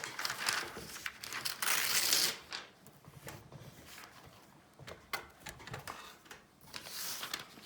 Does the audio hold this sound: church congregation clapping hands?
no